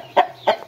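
Two short, close Brahma hen clucks about a third of a second apart, with a faint third cluck trailing off at the end.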